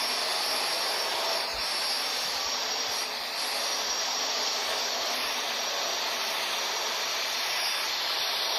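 Boeing 737 jet engines roaring at takeoff in Real Flight Simulator, a Corendon flight from Düsseldorf, as a steady loud broadband rush with hiss that holds evenly throughout.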